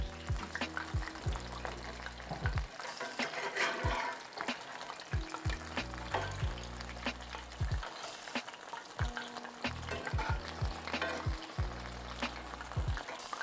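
Belizean conch fritters sizzle steadily in hot oil, with repeated clinks and scrapes of a utensil stirring and flipping them close by, and no talk.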